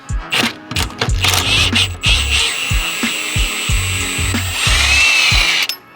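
Pneumatic impact gun hammering at a bolt on an Audi S4 subframe in a garage, in a string of loud, close rattling bursts with short pauses between, and a steady high whine of air or a compressor underneath.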